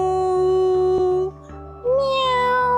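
A human voice mimics a cat meowing in a children's yoga session, with two sung meows, the first long and level, the second rising after a brief pause, close and clear over a low steady drone.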